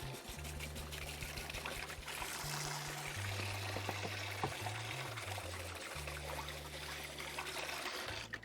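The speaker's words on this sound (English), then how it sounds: "let me wash this hand that I've been holding off to the side forever and a day." Tap water pours and trickles at a sink while a hand is washed, a soft steady splashing stream under a low tonal hum, fairly quiet and without speech.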